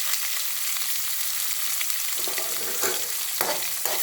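Chopped onion, green chili and curry leaves sizzle steadily in hot oil, with a few stirring scrapes near the end, close and alone.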